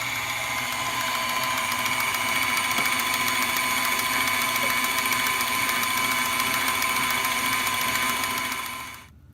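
An electric mixer whirring through pink cupcake batter, a loud, steady motor drone that runs continuously and then cuts off near the end.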